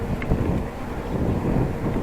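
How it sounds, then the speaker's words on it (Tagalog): Strong wind buffets the microphone during a motorcycle loop ride between Jala-Jala and Mabitac, a steady low roar that fills the clip on its own, with no talk. "Akas ng hangin dito."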